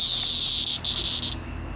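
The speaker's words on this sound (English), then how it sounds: "The cicadas are out in full force." Cicadas buzz on a summer night, a loud close shrill drone with a few short breaks before it fades.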